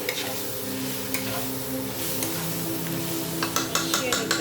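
Tomatoes, salt and ginger-garlic paste sizzle steadily in a pan on the stove for a Bengali chicken curry. A spoon stirs and clinks against the pan in bursts, loudest near the end.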